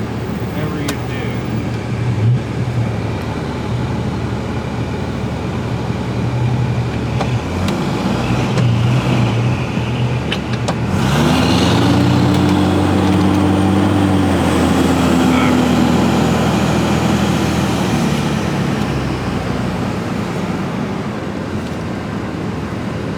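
A 1973 VW Thing drives along with a steady engine and road rumble that grows louder as the car picks up speed midway, while people talk over it.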